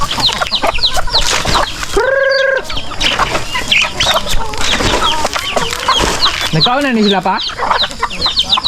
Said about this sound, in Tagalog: may mga native chicken tayo, mga pabo